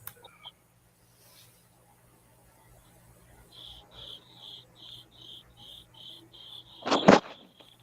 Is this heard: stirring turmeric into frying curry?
no